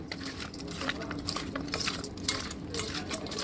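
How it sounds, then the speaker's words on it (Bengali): Tengra fish being mixed by hand with salt, turmeric, mustard oil and chili powder, a continuous close wet squelching and rubbing with quick irregular clicks, no voices. "এবার ভালো করে মেখে নিচ্ছি নুন হলুদ সর্ষের তেল আর শুকনো লঙ্কা পাউডার দিয়ে"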